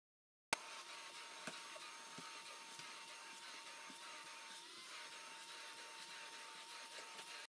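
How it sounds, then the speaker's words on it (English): A vacuum cleaner switches on abruptly and runs steadily, sucking up staples pulled from a camper floor, with scattered small clicks and rattles as debris is drawn in. "I like to go ahead, go back, and vacuum them all up."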